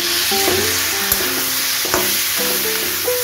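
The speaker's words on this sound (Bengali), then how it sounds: "এবার আমি এর মধ্যে আদা লঙ্কা আর একটু রসুন বেটে রেখেছিলাম, এটা দিয়ে দিলাম।" Ground ginger, green chili and garlic paste sizzles loudly in hot oil with fried onion and garlic, a dense continuous hiss broken by a few spatula scrapes and clinks, close and with no voices.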